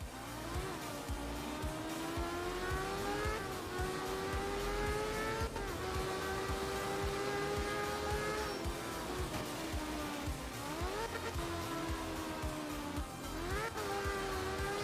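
A rotary-engined rally car in Art of Rally revs hard with a high-pitched, buzzing whine, repeatedly rising in pitch through the gears with brief drops between shifts, loud and continuous.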